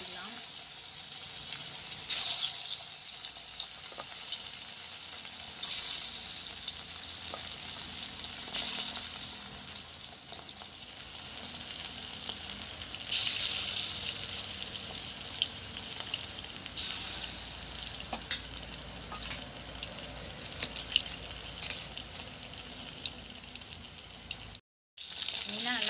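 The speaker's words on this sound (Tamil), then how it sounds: "எண்ணெய் சூடாயிட்டு நம்ம மீனை போட்டுக்கலாம்." Fish frying in hot oil in a pan, a continuous hissing sizzle with crackling bursts, moderately loud and steady, briefly dropping out near the end.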